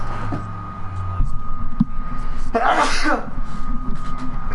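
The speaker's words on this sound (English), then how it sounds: "Yeah, sneezing sucks." A sharp human sneeze bursts out, loud and close, in the middle of otherwise quiet room noise and hum, a single forceful explosive burst lasting under a second.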